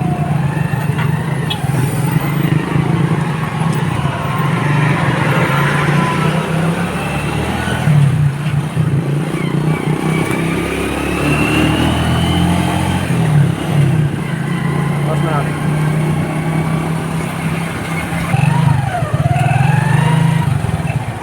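Road traffic of cars and motorcycles passing on a congested street, a steady rumble of engines with occasional revving bikes rising and fading as vehicles go by, heard continuously with no talk.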